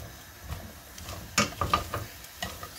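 Mushrooms frying in hot oil in a pan for creamy mushroom pesto pasta, with soft scraping stirs and crackling bursts that come in irregular clusters, fairly quiet and close, no voices.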